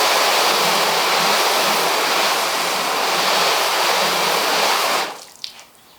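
A loud, steady rush of rinse water sprays and pours over car paint for about five seconds, sheeting off poorly, then cuts off, leaving a few faint drips and a small splash.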